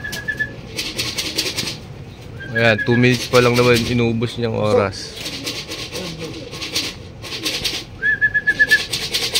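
A racing pigeon at a club training session flutters in and coos near the loft while someone talks over it, with faint whistling tones and soft wingbeats around the landing.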